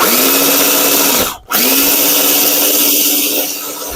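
A food processor blends crab stuffed mushroom filling in two loud, close pulses, a steady whirring motor whine that cuts out briefly and spins up again before easing down.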